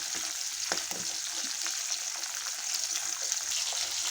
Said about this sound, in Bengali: মাছ আমার ভাজা হয়ে গেছে এক পিঠ